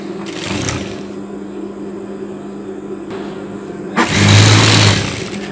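A sewing machine hums while stitching a long cardigan, with a low steady run that dips midway and then surges louder and closer in a short final burst.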